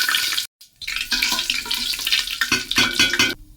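Whole cumin, dried chillies and bay leaves hit hot oil for a vegetarian jackfruit pulao, giving a loud, bright sizzle that cuts out briefly, then crackles on with stirring.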